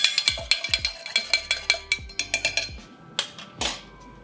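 Quick, sharp clinks of a spoon or stirrer against a glass while mixing a holiday cocktail with 7-Up, a rapid run of bright taps that thins out and pauses near the end.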